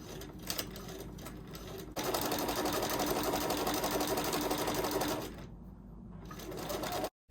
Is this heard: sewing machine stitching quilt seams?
yes